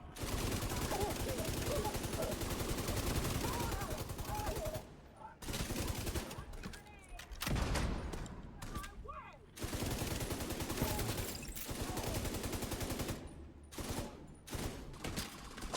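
Rapid bursts of heavy gunfire and shotgun blasts from a hyena big shot enemy in The Division 2, loud and dense, broken by short pauses, with a long-range shotgun hitting the player.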